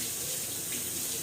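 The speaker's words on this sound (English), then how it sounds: "So let me rinse my hands off and I'll show you here." Water runs steadily from a sink tap as hands are rinsed, a continuous close hiss with no talk.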